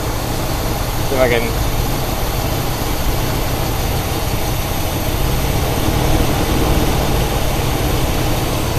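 A 1972 Buick GS Stage 1 Suncoupe engine idles roughly in a steady, close, low rumble, while someone speaks briefly over it.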